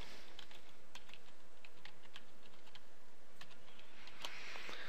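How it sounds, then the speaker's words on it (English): Quiet, rapid clicking of a computer keyboard as a password is typed, irregular keystrokes close by with a few louder taps and no talk. "I'm going to go ahead and type in my password, making sure that I have all the requirements."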